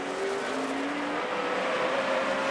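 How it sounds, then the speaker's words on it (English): A NASCAR Sprint Cup race car engine roars at sustained high revs during an in-car view of a 500-lap race, its steady drone shifting slightly in pitch as it runs, loud and continuous with no talk. "You know, Rick, you hear that engine"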